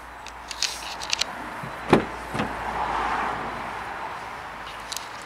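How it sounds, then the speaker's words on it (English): Electric folding mirrors on a 2015 Vauxhall Mokka Tech Line give a few sharp clicks, then a short, soft motor whir as they fold, heard close and fairly quiet. "and of course the folding mirrors"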